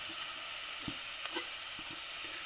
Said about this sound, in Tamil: நெய் விட்டுருக்கேன் ஓகே இதை அதில் போட்டு வதக்கிடுவேன்